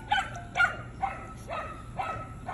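Dogs, pit bulls and miniature dogs, give a quick series of about five sharp barks and yips at close range, evenly spaced over a couple of seconds, with no talking.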